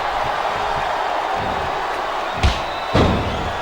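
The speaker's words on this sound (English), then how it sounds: "the crowd has come alive tonight with a chant directed at the superstars in the ring" Arena crowd noise from the WWE SmackDown vs Raw 2008 video game, a steady loud roar of fans with two sharp slams or thuds standing out near the end.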